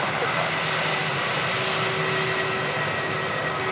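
Jetstar jet airliner in a black livery at Sydney Airport, a loud, steady, broadband roar of jet engines filling the whole stretch with a faint tonal whine, heard from nearby.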